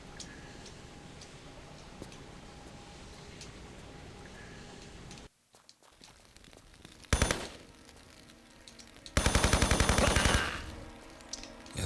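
Two short bursts of automatic gunfire in a Tomb Raider remastered game, sharp rapid shots over a low ambient bed with faint ticking, the second burst longer and louder than the first.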